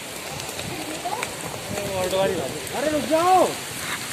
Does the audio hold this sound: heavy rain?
yes